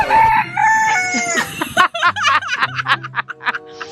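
A rooster crows loudly and close, a long drawn-out call followed by clucking and chortling sounds, all within a few seconds.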